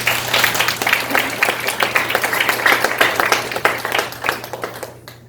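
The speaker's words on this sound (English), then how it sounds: "Let's give a big round of applause to him." An audience at an evening soiree claps steadily in dense, sustained applause for about five seconds, nearby and fairly loud, before stopping abruptly.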